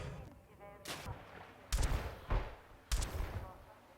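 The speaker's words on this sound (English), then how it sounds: "That's a frag grenade." Gunfire and explosions in the video game Half-Life 2, a frag grenade going off among shots: several heavy booming bursts with rumbling tails spread over a few seconds, loud and close.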